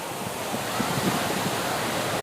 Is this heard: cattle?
no